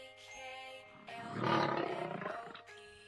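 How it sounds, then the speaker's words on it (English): A lion roars loudly and continuously, the roar swelling in the middle and rumbling on for about three seconds, close and alone without any talk. "Lion."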